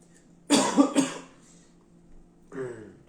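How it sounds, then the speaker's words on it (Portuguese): Two quick harsh coughs close to the mic, then a pause and a shorter throaty cough or throat clear. "Essa tosse vai me judiar hoje, hein?"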